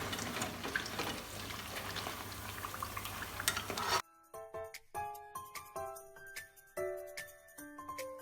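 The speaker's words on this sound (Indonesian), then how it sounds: "Kemudian goreng sampai adonannya habis." Tempe coated in flour batter fries in hot oil with a dense close crackling sizzle for about four seconds, followed by quieter scattered clinks and taps of utensils.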